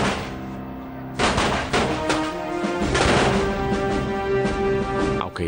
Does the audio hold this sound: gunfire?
yes